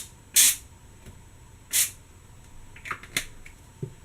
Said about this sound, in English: So you just lightly spray.